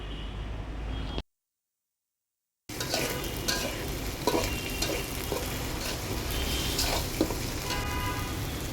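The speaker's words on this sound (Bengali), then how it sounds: "দিয়ে এখন এটাকে একটু নেড়ে চেড়ে ভেজে নেবে।" Onion and garlic sizzle steadily in hot oil for a pigeon curry, with a brief dropout near the start, then continuous frying and scattered scrapes of stirring close by.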